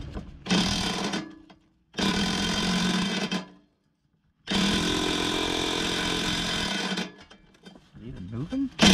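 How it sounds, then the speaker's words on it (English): An impact wrench buzzes in three loud bursts on a stuck trailer hitch bolt of a 1998 Jeep Cherokee XJ, separated by short silences, with a voice briefly heard near the end. "Break out the impact for this."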